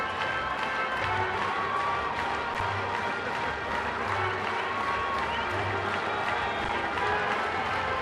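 A large baseball crowd at Petco Park during a Padres game cheers and claps in a steady, roaring wash of noise, distant and continuous, with a rhythmic low thumping beneath.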